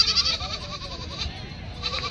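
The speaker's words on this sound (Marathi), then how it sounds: "समोर पाहू शकता दोन्ही पण गावरान शेळ्या आहेत." Local country goats at a goat market bleat close by in a short burst of quavering cries, one call trailing into another over a quiet background.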